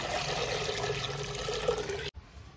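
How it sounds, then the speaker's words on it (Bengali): Water runs steadily into a cooking pot while biryani is prepared beside a home stove, a continuous splashing flow that stops abruptly near the end. "জল দিয়ে দিচ্ছি।"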